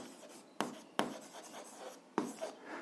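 A pen writes by hand on paper in a quiet room, with soft scratchy strokes and a few sharper taps as marks are made, noting a math equation.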